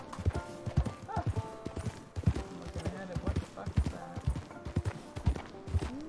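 Horses clip-clop at a brisk trot in a Wild West video game, hooves thudding close and steady, with a whinny among them and voices talking over the scene.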